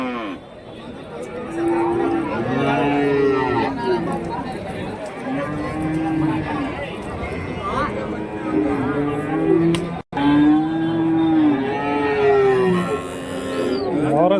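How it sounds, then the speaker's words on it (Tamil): Cattle at the Karimangalam cattle market in Dharmapuri district moo repeatedly in long, drawn-out calls, several animals overlapping close by and fairly loud, over a steady background murmur of the market. "இங்கே கம்மி தான் ஆல்ரெடியே வந்து மாடுங்களை நின்றுட்டு தான் இருக்குங்க"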